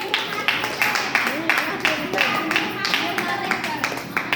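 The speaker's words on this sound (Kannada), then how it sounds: "ಅಮ್ಮನಿಗೆ ಜೋರಾಗಿ ಚಪ್ಪಾಳೆ" Loud clapping from an audience at a health talk about leg pain, blood pressure and diabetes, rising in bursts and sustained throughout, with voices mixed into the applause.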